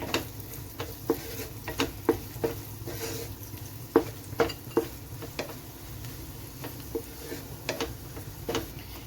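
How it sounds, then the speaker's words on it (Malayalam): Chicken masala is stirred in a pan over a soft, steady frying sizzle, with a spoon clinking and scraping against the pan in irregular taps close by. "ഒന്നിളക്കി ഇതിൻ്റെ ഒരു പച്ചമണം ഒന്ന് മാറട്ടെ"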